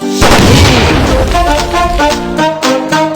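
Game gunfire from a Spiderman vs Zombie mobile shooter: a loud opening boom followed by a busy stream of shots and blasts layered over bright, ringing game music, with no talk.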